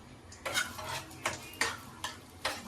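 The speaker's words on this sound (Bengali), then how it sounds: "তাই ভাবছি একটু পেঁয়াজ আর একটু কাঁচা লঙ্কা ভেজে নিই আলু মাখার জন্য" Onion and a few green chillies fry in a pan for mashed potatoes, a low sizzle under five or six sharp scraping stirs of a spatula against metal, close and without voices.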